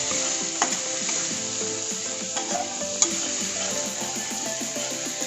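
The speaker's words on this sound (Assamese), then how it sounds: "গোটেইখিনি দি মই মছলাখিনি অকণমান ভাজি লওঁ।" Spices with turmeric and salt fry in oil in a pan for a fish curry with sponge gourd, giving a loud, continuous sizzle with a few sharp utensil clinks and scrapes from stirring.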